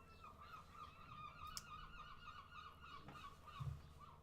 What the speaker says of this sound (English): Bloody seagulls.